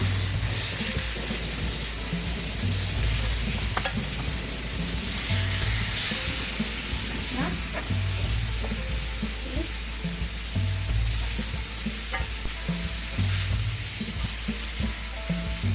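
Fish sizzles and fries steadily in oil on a flat tawa pan for the whole stretch, a dense crackling hiss with occasional small pops, near and even in loudness with no talking.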